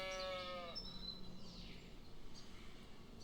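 A sheep bleats with a quavering, harmonic call in the opening moment, then gives way to steady wind and faint outdoor noise in a meadow.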